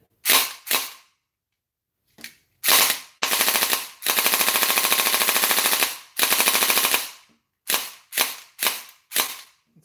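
A toy blaster with a select-fire switch fires close and loud: several separate single shots, then sustained full-auto bursts of rapid mechanical clatter, and a final run of quick single pops.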